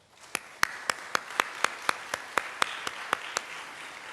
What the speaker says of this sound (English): So let's give Kirk one more round of applause.